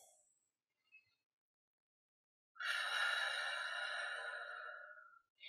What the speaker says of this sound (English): The first thing to try is pursed lip breathing.